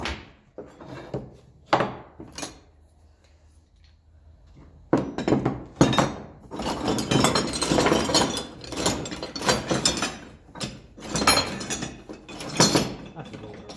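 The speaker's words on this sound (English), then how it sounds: "That's a load of spanners." Small spanners clink and rattle as they are handled and sorted in a shed, with bursts of metallic clattering and sharp clicks, sparse at first and then dense and continuous.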